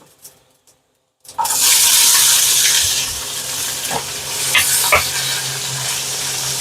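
Garlic spluttering in hot oil after cumin seeds go in for Andhra-style pappu, a sudden loud burst of crackling sizzle that starts after a quiet second and keeps popping steadily up close.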